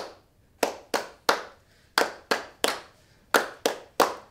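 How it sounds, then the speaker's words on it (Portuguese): Hands clapping in a steady rhythm with a song as children keep time in a physical education class preparing for capoeira, sharp distinct claps in pairs and groups, near and fairly loud, without the berimbau and with no talking. "a gente vai fazer as palmas no ritmo da música"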